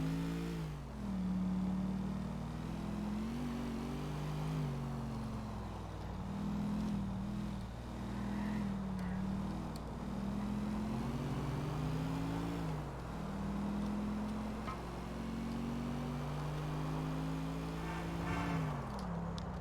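A car drives in GTA 4, its engine humming and rising and falling steadily as it shifts through revs, loud and continuous for a long stretch with no voices over it.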